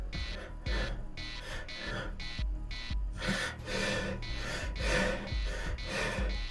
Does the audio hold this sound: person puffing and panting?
yes